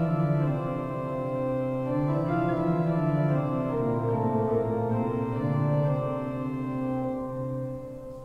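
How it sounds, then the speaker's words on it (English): Sustained pipe organ sounds the countermelody from the second movement of Widor's Symphonie Romane, a slow melodic line moving over held chords at an even level, resonant and continuous with no talk. "It's based on a countermelody in the second movement, a countermelody to the primary chant theme"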